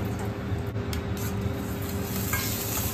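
Fried potatoes stirred with curry leaves in ghee, a soft continuous sizzle with scraping and stirring under a steady background hum, close and moderately quiet, no clear talk.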